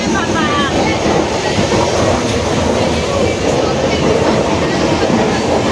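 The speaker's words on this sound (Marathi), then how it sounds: "आम्हाला ट्रेन भेटलेली आहे." A train runs with a loud, continuous rumble and a rhythmic clatter of wheels on rails, holding steady throughout with no pause.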